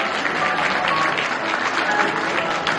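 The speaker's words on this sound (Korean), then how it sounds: "자, 우승님 이제 축하한다고 박수" Wedding guests applaud to congratulate the couple, producing brief, steady clapping from a crowd indoors without a break.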